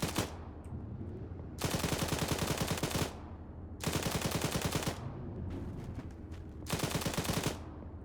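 PKT coaxial machine gun firing in a video game, three sustained bursts of rapid, loud automatic fire, each lasting over a second, separated by quieter background between them.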